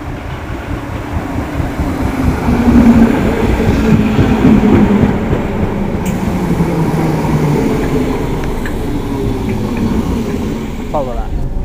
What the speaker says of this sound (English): Just now arriving is my train